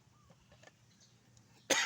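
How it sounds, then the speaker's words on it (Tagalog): A person sick with flu lets out one sharp, close cough at the very end, breaking a quiet stretch of faint background noise. "Ubo ako mga idol kasi natrangkaso ako"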